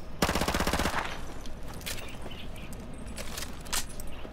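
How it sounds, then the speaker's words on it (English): Uzi submachine gun firing in the Modern Warfare 2 campaign game: a loud rapid burst of automatic fire for about a second, followed by scattered distant shots and game ambience. "Classic Uzi."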